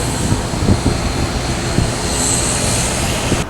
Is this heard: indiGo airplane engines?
yes